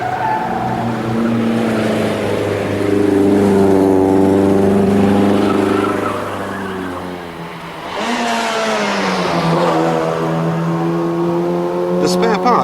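Vintage rally cars, including an old Saab V4 and a 6-cylinder Wolseley, climb a steep Alpine hill, their engines droning loudly and steadily with shifting pitch as they pull up the grade, with a narrator talking over the engine noise throughout.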